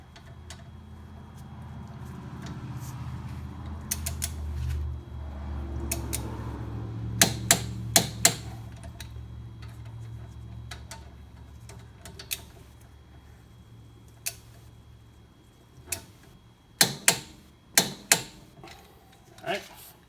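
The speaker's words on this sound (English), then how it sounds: "I'm going to use my torque wrench now that's at 63 foot-pounds" Torque wrench set to 63 foot-pounds tightening rotor bolts on a 1998 Porsche Boxster 986, giving several sharp, close metallic clicks in small clusters, the first ones following low rumbling handling noise.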